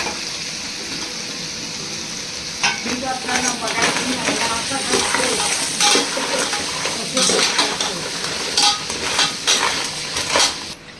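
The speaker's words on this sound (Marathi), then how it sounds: "आता आपलं हे नांगे आणि खेकडे टाकून घ्यायचे. उडायचे त्याच्यात आणि ते परतायचं चांगलं तेलामध्ये." Crabs and crab claws tossed and stir-fried in hot oil for a Malvani crab curry, a steady sizzle under repeated clattering of a spatula against the pan, close and fairly loud, no talking.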